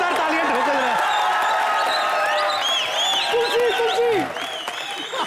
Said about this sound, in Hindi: जोरदार तालियां ठोकर।